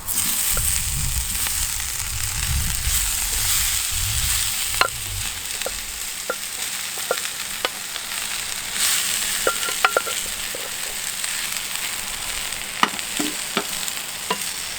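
Parboiled potatoes frying in a pan over a firepit, a continuous bright sizzle with occasional clinks and stirring taps, close and fairly loud, with low crackling rumble early on.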